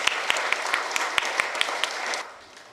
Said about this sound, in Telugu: గట్టిగా చప్పట్లు కొట్టి మనం స్వాగతిద్దాం